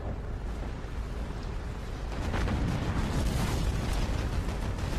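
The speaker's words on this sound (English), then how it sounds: "I'll just keep gunning with main cannons" Main cannons of a warship in Battlestations Pacific booming in a steady roar of blasts, rising louder partway through and rumbling heavily at close range with no talking.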